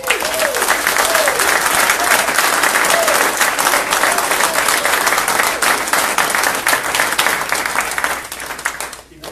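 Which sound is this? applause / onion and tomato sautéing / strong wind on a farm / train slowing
applause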